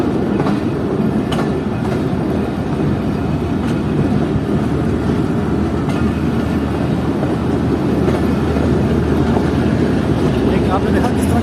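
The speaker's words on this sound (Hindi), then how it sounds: "दिख भी रहा है कि ट्रेन आ रही है" A Chaman passenger train approaches with a continuous heavy rumble and rhythmic wheel clatter, loud and close, while people talk over it.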